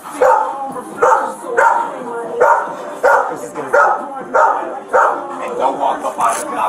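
A dog barks over and over in a steady rhythm, loud and close, at a gas station late at night, with people talking at the same time.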